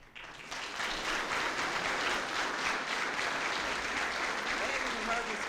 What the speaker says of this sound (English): I haven't even heard me speak yet, they're clapping.